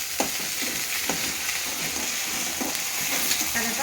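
Curry leaves frying in hot oil while making lemon chicken curry, giving a steady close sizzle and crackle with occasional sharper pops and stirring clinks, no talking.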